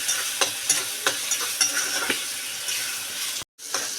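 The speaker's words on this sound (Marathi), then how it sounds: "आपण इथे परतून घेत आहोत" Onion and tomato are sautéed in a pan, with a steady sizzle broken by repeated scraping stir strokes of a spoon against the pan. One brief gap of silence falls near the end.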